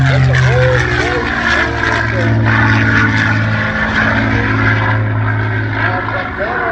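A P-51 Mustang propeller fighter with a Rolls-Royce engine runs loud and continuous at an air show, its deep droning roar steady throughout while an announcer talks over it.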